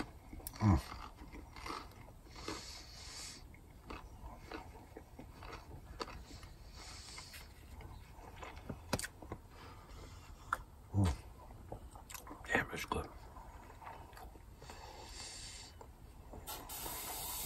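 Someone eats breakfast, with soft intermittent chewing and crunchy bites close by alongside a faint steady hiss, sharper bites standing out now and then over a quiet background.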